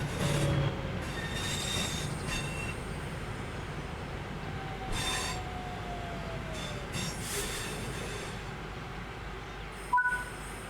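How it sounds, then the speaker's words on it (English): A train in the Train Sim World 6 video game braking to a stop, with steady rolling rumble, a long squeal of wheels on rails and a few clicks and hisses, alone with no talk. "Bring the train to a stop by applying some brake using the power brake handle."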